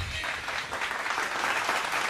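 Audience applause at an astrology conference, a dense continuous patter of many hands clapping, moderately loud and steady after a brief low thud at the start.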